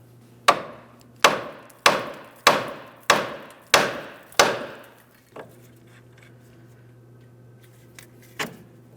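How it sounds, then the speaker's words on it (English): Seven evenly spaced metallic hammer taps on the steering knuckle of a 2003-2008 Toyota Matrix ring out in a steady rhythm, followed by a pause and two more isolated strikes. "we're going to use a hammer and lightly tap on the steering knuckle"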